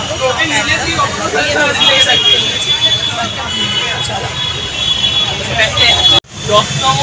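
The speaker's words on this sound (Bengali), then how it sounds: "ওই যে পিছনে আসতে হচ্ছে দুশো পঁয়ত্রিশ ওই বাসটা" Busy city street at Sealdah in Kolkata with a route 235 bus nearby, steady engine and traffic rumble under a background babble of voices, cut by a brief dropout near the end.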